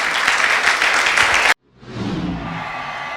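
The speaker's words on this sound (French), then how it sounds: "Clap hands to Jesus." Church congregation in Yaoundé, Cameroon, clapping together loudly and steadily during worship. The clapping stops abruptly halfway through, and a softer, muffled crowd murmur rises afterward.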